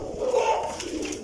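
A Teddy cross pigeon gives a short soft coo, a single low throaty call rising and fading within about a second against a quiet loft background.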